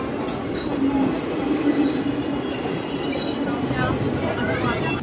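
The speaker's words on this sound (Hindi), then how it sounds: "ये जो सामने ट्रेन आई है ये है हटिया टू आनंद विहार एक्सप्रेस" The Hatia to Anand Vihar Express pulls into a station, its rail cars rumbling steadily and loudly close by with faint wheel squeals and clatter, while voices murmur on the platform.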